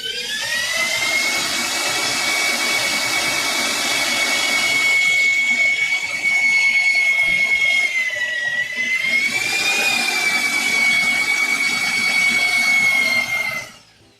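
A power drill bores through wood while building Japanese-joinery sawhorses, a loud, close, sustained high whine that dips briefly midway and then runs on steadily before stopping abruptly.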